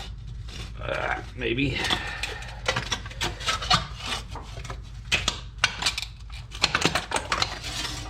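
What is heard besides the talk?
cutting a brake part with pin snips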